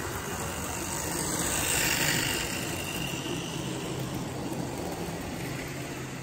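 Vintage Tri-ang model railway train pulling bogie tank wagons, with traction tyres on the tender drive, running along the track with a steady moderate motor hum and rolling rumble that swells slightly midway, no talk.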